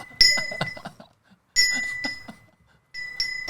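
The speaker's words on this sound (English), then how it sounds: "Ring the bell" A bell is struck three times at even intervals. Each loud, bright ding rings on and fades before the next strike, and there are no voices.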